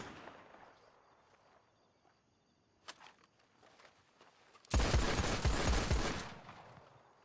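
A sudden, loud burst of rapid gunfire erupts near the end of a Red Dead Redemption 2 roleplay scene on WildRP, after a single sharp shot and quiet ambience, then fades.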